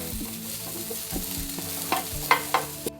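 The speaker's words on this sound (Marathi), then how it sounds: "खोबरं भाजून झाल्यानंतर लगेचच कांदा भाजून घेऊया." Onion dry-roasting in a pan without oil is stirred with gentle scraping and light sizzling, with a few sharper knocks of the utensil against the pan near the end, close and unaccompanied by speech.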